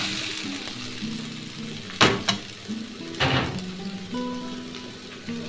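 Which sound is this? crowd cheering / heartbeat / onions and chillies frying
onions and chillies frying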